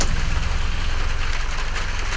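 Steady rain falls during a rainy Missouri whitetail deer hunting morning, a dense, even hiss with a heavy low rumble that holds constant throughout with no voices.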